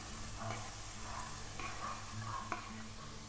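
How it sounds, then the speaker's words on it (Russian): Onion and cabbage sautéing in a pan while being stirred, a soft low sizzle with faint scraping strokes, quiet and close without speech. "И опять недолго пассеруем овощи вместе, помешивая"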